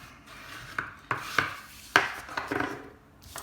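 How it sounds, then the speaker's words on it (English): A bone folder burnishing a paper card, a handful of short, close scraping rubs in an irregular rhythm, fairly faint, with no talk. "Burnish with your bone folder."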